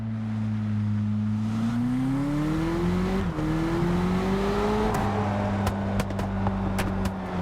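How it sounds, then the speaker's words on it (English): Lamborghini exhaust in the Test Drive Unlimited Solar Crown racing game, a steady engine drone rising in pitch through a shift, with sharp crackles and pops bursting near the end, loud and close. "The cracks and popples you get on this car are so crazy."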